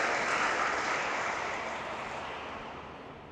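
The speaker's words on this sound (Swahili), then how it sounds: "Naomba mwapigie hawa makofi kwa kuwahifadhi hai." Congregation at a church gathering applauding, a steady wash of clapping from many hands that slowly fades over a few seconds, with no talking.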